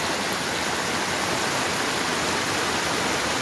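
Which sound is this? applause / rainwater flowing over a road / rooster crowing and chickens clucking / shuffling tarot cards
rainwater flowing over a road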